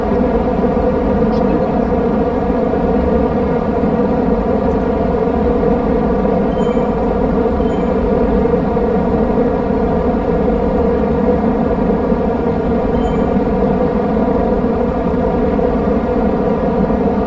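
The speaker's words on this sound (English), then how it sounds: "And fans on." Electric fans blowing during an indoor Zwift cycling session, giving a loud, constant whirring drone with steady tonal hum that holds unchanged throughout.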